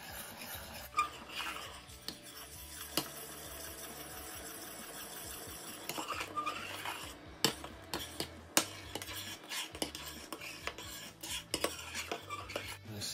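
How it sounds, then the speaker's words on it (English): A spoon keeps stirring a blackberry and apple wine mixture in a pot as it nears the boil, giving a steady scraping, rubbing rhythm with occasional clinks against the metal, close and moderately loud throughout. "so keep stirring"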